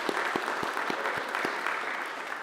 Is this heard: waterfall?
no